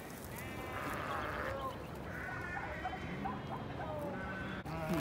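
Dairy sheep bleat repeatedly on a farm at lambing time, several overlapping calls from nearby animals over a steady background of outdoor noise.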